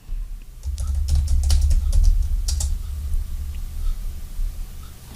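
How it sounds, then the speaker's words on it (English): Fast bursts of clicking on a computer keyboard as a search is typed into iTunes, close and clear against a low background hum, with no talk. "I'm going to type in join up dots"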